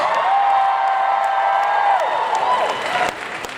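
An audience at a talk event applauds and cheers, a loud dense wash of clapping with whoops running throughout, then easing slightly toward the end.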